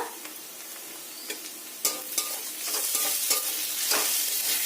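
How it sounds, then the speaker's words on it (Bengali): Onion and garlic paste frying in hot oil, a steady sizzle that swells louder midway, with sharp clicks and scrapes from a spoon stirring the pan. "এখন রসুনের কাঁচা গন্ধটা না যায় ততক্ষণ ভাজতে হবে"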